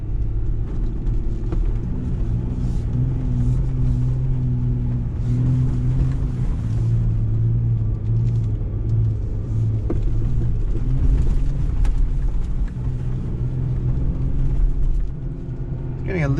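A 2020 Jeep Gladiator Rubicon engine drones low and steady in second gear off-road, rumbling continuously and slightly bogged down, with someone talking over it.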